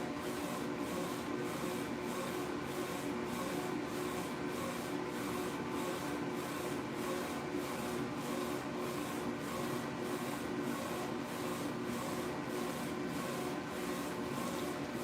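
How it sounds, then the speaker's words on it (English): Vinyl printer running steadily, its print head sweeping back and forth in an even repeating rhythm with a constant mechanical hum, close and alone without talk. "So again, taking you back to the printer,"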